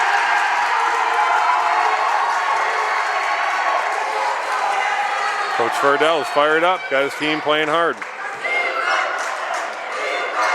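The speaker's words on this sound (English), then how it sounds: "This crowd is loud" A packed gym roars steadily during a high school boys basketball game between McCann and Mt Greylock, the loud crowd noise filling the background while an announcer talks over it.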